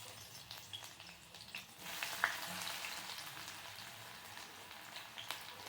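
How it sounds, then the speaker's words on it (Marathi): Onion sizzles in hot oil for a Maharashtrian farsan bhaji, a faint, soft crackle with scattered small pops and light stirring noises, growing slightly busier partway through. "आता तेल गरम झाले तर याच्यामध्ये कांदा टाकूया."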